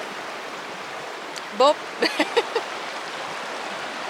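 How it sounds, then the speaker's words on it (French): A small waterfall on a hiking trail pours as a steady, broad rush of water that fills the whole scene, with a few brief voice sounds and a single spoken word breaking in near the middle. "on va profiter de la petite cascade de là tout de suite"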